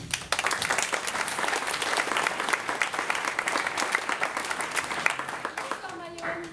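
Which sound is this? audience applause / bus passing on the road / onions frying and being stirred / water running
audience applause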